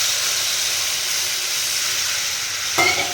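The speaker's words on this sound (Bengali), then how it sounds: "এর ভিতরে আমি পরিমাণ মতো জল দিয়ে দেবো।" Hot fried spice paste of ginger, onion and garlic sizzles loudly and steadily in a pan, with a sudden burst as a little water hits it at the end.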